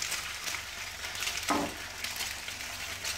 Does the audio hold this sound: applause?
no